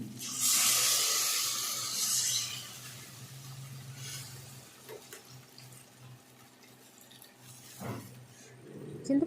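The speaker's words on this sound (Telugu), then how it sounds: "2 నిమిషాల తర్వాత మనం చింతపండు పులుసుని వేసుకుందాం." Tamarind juice pours into a simmering small fish curry, a loud bright splashing rush for the first two seconds, then fading to a low simmer with a few soft clinks and bumps.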